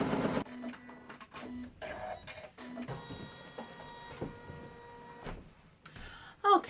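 Embroidery machine stitching an open weave pattern to hold Mylar iridescent film onto fabric, heard as close, intermittent mechanical whirring and clicking runs with short pauses, no talking.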